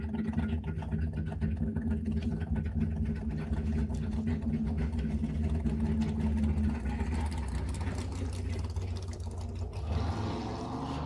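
A land speed racing car's engine runs at the SCTA flying mile on the El Mirage dry lake, a continuous droning roar held steady for about ten seconds with no voices.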